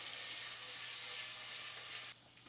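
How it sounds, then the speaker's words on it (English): Butter sizzles in a soup pot for chicken noodle soup: a steady, close, bright hiss that holds for about two seconds, then drops off sharply into quieter crackle. "Yes, it sizzles."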